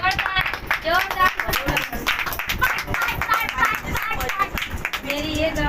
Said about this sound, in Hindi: जोरदार तालियां, जोरदार जोरदार।